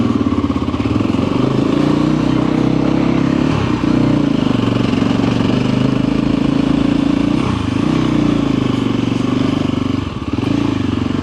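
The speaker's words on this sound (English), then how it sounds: "So very first ride guys, I'm in first gear." A motorcycle pulls away in first gear on its very first ride, the engine droning loud, close and constant with slight dips in pitch throughout.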